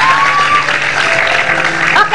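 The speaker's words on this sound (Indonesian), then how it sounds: "tepuk tangan dulu dong untuk Jessica Iskandar" Studio audience applauds Jessica Iskandar on an Indonesian talk show, a steady wash of clapping and crowd noise with a thin whistle-like tone, a host's voice mixed in.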